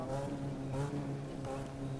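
A Mazda RX-7 drift car engine in The Crew 2 racing game drones with a steady, buzzy tone that rises and falls slightly as the revs shift, loud and unbroken.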